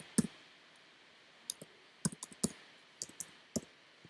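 Computer keyboard keys clicking in sparse, irregular taps and short bursts, quiet and close, with no voices while someone types code for a web page.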